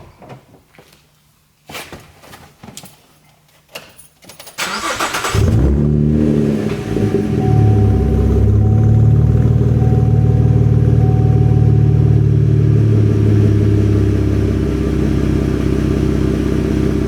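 A Chevrolet Camaro V6 fitted with an X-pipe and resonator delete: a few clunks and short bursts, then the engine fires up into a loud, deep, sustained idle and rev that drones steadily to the end.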